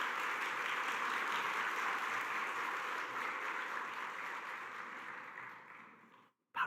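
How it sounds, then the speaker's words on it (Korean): A church congregation at a Sunday worship service gives sustained, even applause that fills the room at moderate volume, then gradually thins and stops, followed by a brief bump of handling noise at the end. "박수까지 쳐줘서 더 감사합니다."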